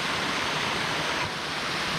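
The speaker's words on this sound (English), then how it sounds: "I think there's some, like a waterfall over here." Steady rushing roar of a waterfall on the Kettle River in Minnesota, broad and constant and fairly close, with no voices over it.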